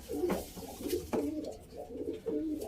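Young pigeon squabs coo in agitated, repeated bursts, four low throaty calls close by, each rising and falling with short pauses between.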